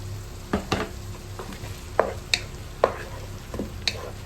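Ground tomato fries in a pan with vegetables, a soft low sizzle broken by several sharp spatula scrapes and taps spaced irregularly, close and fairly quiet with no speech.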